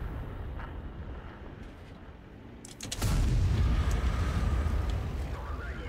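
An AMX 13 F3 AM self-propelled gun fires its cannon in the World of Tanks video game. A single loud boom cuts in midway over low battle rumble and is followed by a sustained heavy rumble.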